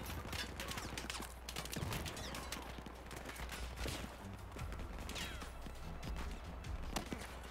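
Dense, distant gunfire crackles through a Battlefield 4 campaign battle, with scattered shots and bursts over a constant rumbling game soundscape, and a voice talks briefly.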